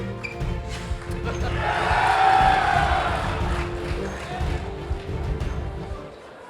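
Audience at an awards event breaks into applause and cheering that swells in the middle and fades toward the end, with a few voices shouting over the crowd.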